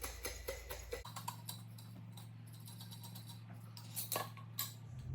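A jar of homemade ranch seasoning blend is shaken in quick, close bursts of rattling and ticking. A low steady hum runs beneath, and a second flurry of rattles comes near the end.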